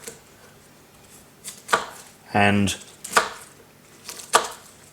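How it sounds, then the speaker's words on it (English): A knife chops through a fresh romanesco cauliflower stalk on a board, several crisp, sharp cuts spaced about a second apart with one longer crunchy slice, close up, and a voice briefly speaks. "chopping it up into slightly smaller pieces"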